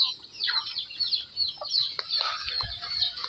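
Native jungle fowl (labuyo) and chickens on a rural farm, a mix of high chirps, clucks and short calls layered over each other at moderate distance, with no talking.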